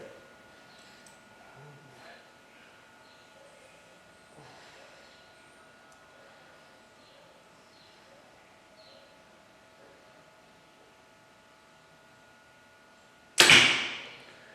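A compound bow fires an arrow at the very end with a single sharp release snap, preceded by long near-silence with faint room noise.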